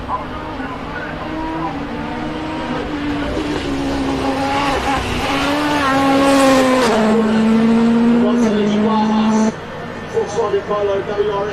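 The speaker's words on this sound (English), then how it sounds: "Polo WRX Supercar is on its way up the hill for the penultimate time" Polo WRX supercar races up the Simola hill climb, its engine roaring loudly with rising and shifting pitch throughout, fading near the end behind a commentator talking over the sound.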